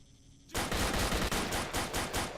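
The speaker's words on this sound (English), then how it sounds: "It sounds like we got a firefight going on." Loud gunfire in the video game Stalker: a firefight of rapid, repeated bursts that starts suddenly after a brief quiet and keeps up without pause.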